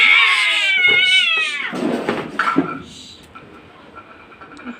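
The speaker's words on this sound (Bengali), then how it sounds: "ওই বিড়ালটি ওইখানেই বসে রয়েছে, বসে বসে ফুলছে। এই যে দুজন ঝগড়া লেগে পড়লো।" Two street cats squaring off and fighting, one drawn-out rising yowl followed by snarling, spitting and scuffling, loud and close, then fading to quieter growls.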